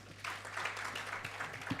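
An audience at a public consultative workshop on energy regulations in Nairobi gives a short round of applause, a brief burst of many hands clapping at moderate distance.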